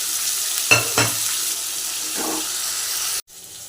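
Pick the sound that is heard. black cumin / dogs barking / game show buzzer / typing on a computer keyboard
black cumin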